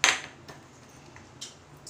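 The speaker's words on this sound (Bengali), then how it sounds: "মুগ ডালটাকে আমি হালকা রোস্ট করে নেব।" Moong dal dry-roasting in a pan while a spoon stirs it, giving a sharp clink at the start and then a few faint, scattered taps and scrapes against a quiet background.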